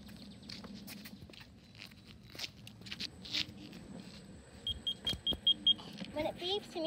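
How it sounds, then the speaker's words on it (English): A Segway gives a series of short, evenly spaced high warning beeps for going too fast, faint and set against quiet garage background noise. "When it beeps, it means I'm going too fast."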